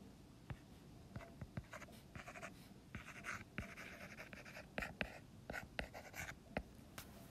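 Chalk or marker writing on a board during a mathematics lecture: irregular scratchy strokes and taps, some sharper clicks, sounding close and steady across the whole span with no talk.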